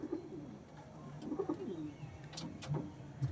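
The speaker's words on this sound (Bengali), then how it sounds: "দেখুন কতটা ছটপটে পায়রা" Pigeons coo softly in low, throaty bursts, several overlapping calls from nearby birds with faint wing or cage rustles and an occasional sharper chirp.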